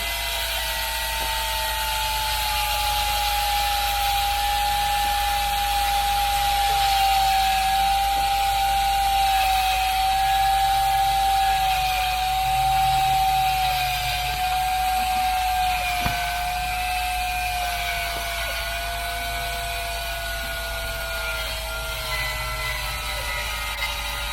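A power tool whirring steadily to sand down the inside of a drilled-out AA battery, a continuous high mechanical whine with a slight grinding rasp, close and loud, no talking.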